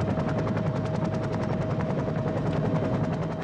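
A helicopter carrying cougar cubs to remote Idaho wilderness gives a loud, steady rotor chop with rapid regular beats and a constant engine whine, heard alone.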